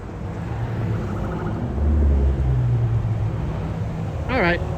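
A Honda Acty 3-cylinder pickup's engine rumbles and builds as it accelerates up a highway on-ramp through steady traffic noise, with a brief higher whine near the end.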